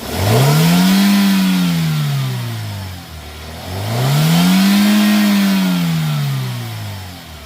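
A Toyota Yaris petrol engine revved on the accelerator soon after a cold start, two long rising-and-falling revs that climb, hold and drop back toward idle, loud and close.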